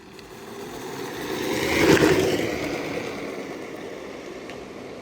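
A Power Wheels ride-on toy car accelerating down a 60-foot drag strip, an electric motor whine that rises to a peak as it passes near and then fades away over several seconds, with no talking.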